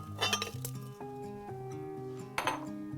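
Frozen banana slices are tossed into a blender to make green tea ice cream, clinking and clattering against the glass jar in a burst near the start and another about two seconds later, close and fairly loud.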